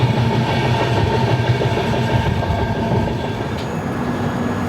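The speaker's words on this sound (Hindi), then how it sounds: "सो अब थोड़ी देर में हम पहुंचने वाले हैं सूरत रेलवे स्टेशन।" The Mumbai–Ahmedabad Double Decker Express (12931) rumbles along from inside the coach, a loud, continuous low roar of wheels and carriage easing slightly toward the end.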